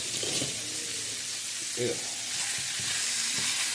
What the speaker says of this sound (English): That new bacon frying up properly.